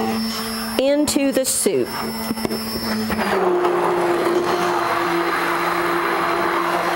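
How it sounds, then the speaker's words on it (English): An immersion blender whirs steadily in a pot of corn chowder, puréeing pumpkin into the soup, with someone speaking briefly over the start before the motor's even hum carries on alone. "because I have my immersion blender, I'm going to use this"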